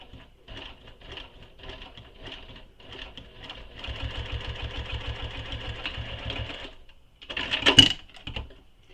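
A sewing machine runs in short stitch-by-stitch bursts, then settles into a steadier run of top stitching on a fabric quiver sling, with a louder mechanical clatter near the end.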